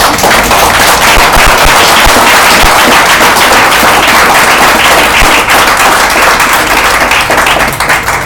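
A church congregation applauds loudly and steadily, dense clapping from many hands filling the space without pause for about eight seconds before easing slightly at the end.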